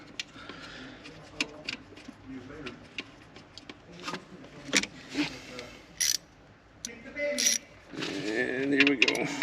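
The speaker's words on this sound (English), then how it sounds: "So again, one washer, one lock washer, and one nut. And just run them down." A washer, lock washer and nut are run down onto a DC bus stud, giving small metallic clicks and ratcheting turns, close and fairly faint, with someone speaking over the work.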